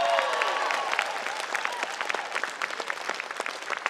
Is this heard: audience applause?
yes